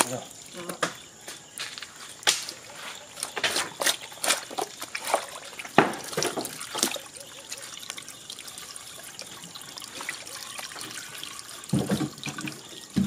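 A tap runs as a pot fills with water at a Filipino street food stall making beef goto soup, with an uneven splashing and trickling stream, clattering, and voices nearby.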